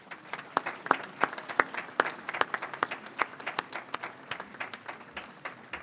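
An audience at a college commencement ceremony applauds, a dense patter of many hands clapping at moderate distance with some louder individual claps standing out, steady throughout without speech.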